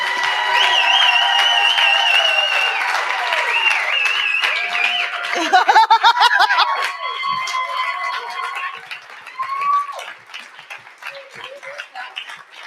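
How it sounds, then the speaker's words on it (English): An audience at an Ignite Denver event breaks into loud, sustained applause with some cheering, while voices and tonal sounds rise over the crowd noise. "Please applaud the shit out of these."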